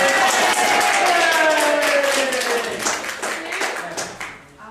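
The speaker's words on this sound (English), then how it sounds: "give her a round of applause" Audience applause, a steady patter of many hands clapping that gradually fades out.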